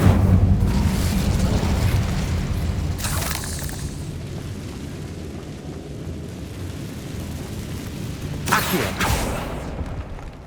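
Casting the Incendio fire spell in Hogwarts Legacy brings a heavy rumbling roar that opens loud, then swells again in two whooshing bursts as it slowly fades.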